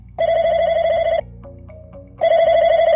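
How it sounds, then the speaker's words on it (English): A telephone rings loudly and close: two long electronic ring bursts separated by a quieter gap, with no voices. "Could be a phone call."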